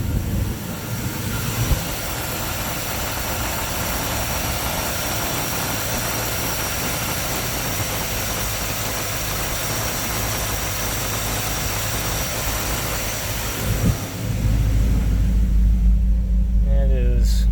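A car engine fitted with a Holley carburetor idles steadily at around 900 RPM, a continuous loud rumble that holds even throughout, with a brief dip and a heavier low-frequency surge near the end.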